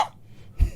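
A single short cough bursts out close to the microphone, brief and low, after a faint breathy sound at the start.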